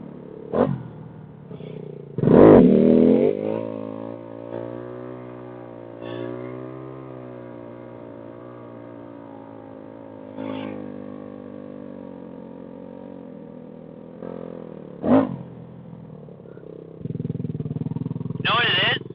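A motorcycle engine held at a steady idle drone, punctuated by several sharp throttle blips and revs during wheelie practice, with people talking over it.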